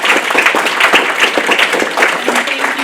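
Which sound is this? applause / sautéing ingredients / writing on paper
applause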